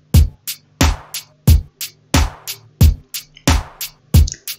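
An FL Studio drum beat with a kick layered onto the snare, steady punchy hits alternating with short bright hats in an even repeating pattern, loud and clean with no voices.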